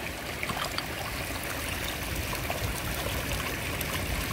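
A small stream in South Wales runs high after heavy rain, giving a steady close babbling and trickling rush with no pauses and no voices.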